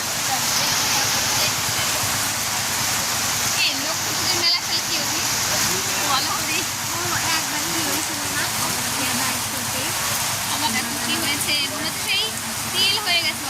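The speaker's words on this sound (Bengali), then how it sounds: "দেখো কি অবস্থা বৃষ্টি কখন কমবে" Heavy rain pours down steadily in a dense, continuous hiss and splatter, with people talking throughout over the downpour.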